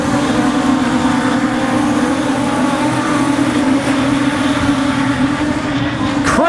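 Production sedan race cars roar around Kingaroy Speedway on a restart, a loud steady blend of engines at full throttle with no break throughout.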